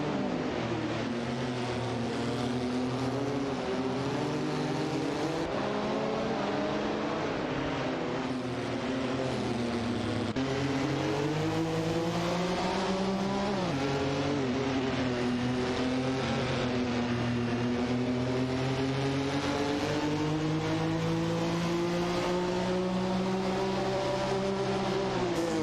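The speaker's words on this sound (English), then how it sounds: "Racing car dashing away." Racing cars speeding around a track in an AI racing video game, layered engine whines rising and falling in pitch continuously throughout, loud and steady with no talk.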